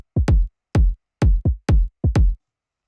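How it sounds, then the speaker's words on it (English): Main and rhythm kick drums of a bass house beat hit together in a dry, punchy syncopated pattern of deep thuds, single and doubled hits, with no other instruments. "And together with the main kick, it sounds like this."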